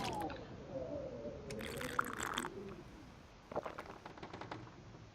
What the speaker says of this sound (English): Alright, let's drink some water.